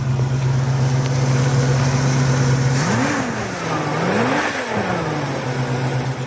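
Classic car engine under a little gas, a steady loud idle that swells through two revs and settles back, close up with no talk.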